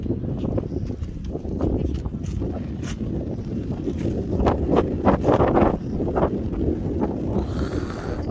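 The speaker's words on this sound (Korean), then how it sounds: "바람이 이 정도로 불어" Strong wind blows across open water, rumbling and buffeting the microphone in loud, continuous gusts with some rustling and knocking, and faint voices in the background.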